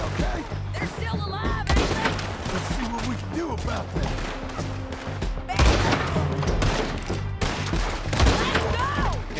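Rapid bursts of gunfire from a Red Dead Redemption 2 shootout, dense and continuous volleys of shots and thuds with occasional booms, loud throughout, with a voice speaking over parts of it.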